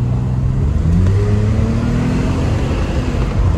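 A BMW Z3 roadster, front-engined and rear-wheel drive, accelerates with a loud, steady engine drone and rising tone, heard close from inside the car without talk.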